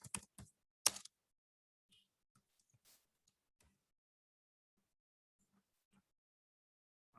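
Quick burst of computer keyboard keystrokes while an address is typed into a web form, followed by sparse, faint isolated key taps and long quiet gaps.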